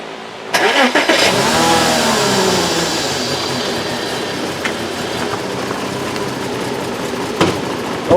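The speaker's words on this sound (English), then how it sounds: "hear that backfire through the intake? Oh yeah, that's a fuel pump problem" A 2004 Porsche Cayenne with a bad fuel pump cranks and catches, then runs roughly and loud nearby, its engine note wavering and sagging, punctuated by a couple of sharp pops back through the intake.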